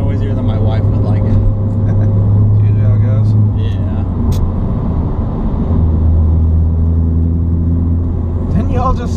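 Tuned Ford Focus ST with a deeper-toned exhaust, steady engine drone and low rumble while driving, loud and continuous from the cabin with some road noise.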